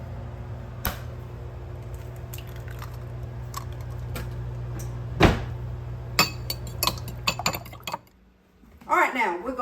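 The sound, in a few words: beating eggs in a bowl for coconut custard pie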